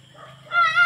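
A tethered dog lets out a brief, high, strained whine, rising sharply in loudness halfway through and held tonal to the end of the short burst.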